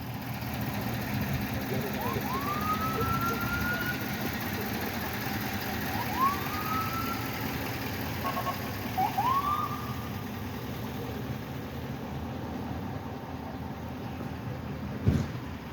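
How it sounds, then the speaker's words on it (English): A distant ambulance siren rises and wails in a few brief sweeps over a steady rumble of traffic and idling engines. "Another ambulance coming down."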